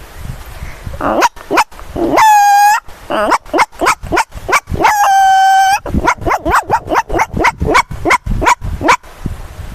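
A human voice mimics a small dog, yapping in quick repeated barks broken by two drawn-out whining howls, loud and close.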